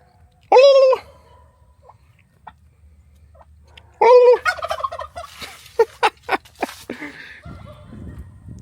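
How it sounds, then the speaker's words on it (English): Two loud turkey gobbles ring out a few seconds apart, followed by a burst of clucking and shorter calls from nearby birds. "But some nice turkeys."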